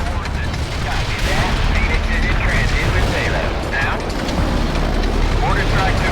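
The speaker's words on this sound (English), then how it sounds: "Mortar strike took care of enemy units in target area." Mortar strike artillery fire in the World in Conflict video game: a dense, continuous roar of explosions and battle rumble that stays loud and unbroken for the whole stretch.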